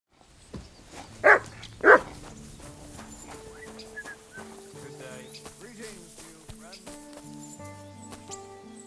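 A dog in the medieval game Kingdom Come: Deliverance II gives two loud, close barks early on, followed by game music and background sounds, with speech present.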